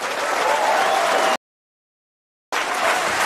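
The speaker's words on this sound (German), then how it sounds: "Applaus für Christine Brinker." A crowd at an outdoor AfD political rally in the Palatinate applauds for Christine Brinker: dense, loud, sustained clapping that cuts out abruptly to silence, then resumes.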